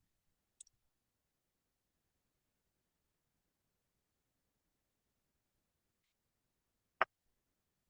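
Computer mouse clicks in a quiet room: a faint double click early on, then one crisp, isolated click several seconds later, with near silence in between.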